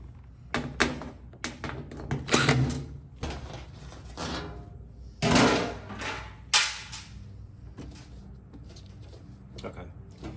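Screws are removed from the lower panel of a Samsung washer, producing scattered taps, clicks and metallic clunks of a tool and panel, with someone talking intermittently in between.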